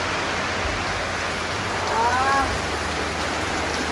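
Heavy rain pours down steadily in a Thai village during a storm with wind, a dense continuous wash of sound with a faint whistle-like tone briefly rising over it; no clear speech.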